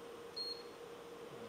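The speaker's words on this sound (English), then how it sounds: "Oh, beeps, that's a good thing." A single short, high electronic beep from a Kia 15LMS dual spindle lathe's controller, faint against a steady mechanical hum.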